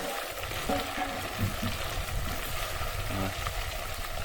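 Crab mixture frying in oil gives a steady, close, moderately loud sizzle and bubble, with occasional stirring scrapes and no talk.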